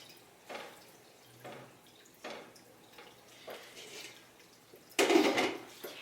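Onions in oil are stirred in a pan on a medium stovetop, giving a few soft scrapes and clinks at an unhurried pace, close and quiet, ending in a brief louder clatter.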